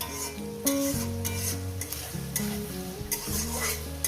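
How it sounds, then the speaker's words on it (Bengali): Onions with a pinch of turmeric fry and are stirred in a pan for a Bengali chicken dish, a steady sizzle broken by repeated scraping strokes of the spoon, close and fairly loud with no voices. "পেঁয়াজটাকে একটু লাল লাল করে ভেজে নেব বেশি পোড়া পোড়া নয়"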